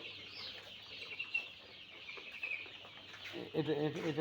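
A dense chorus of seven-day-old chicks peeping continuously at high pitch on a poultry farm, with a low hum underneath and a burst of louder activity near the end.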